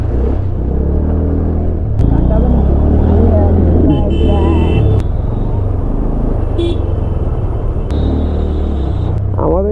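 Heavy traffic jam on an overbridge crossing the Ganges at Varanasi, with a dense, steady rumble of engines and motorcycles and several short horn blasts cutting through, heard close up while people talk over it.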